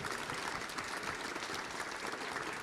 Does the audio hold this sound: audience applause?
yes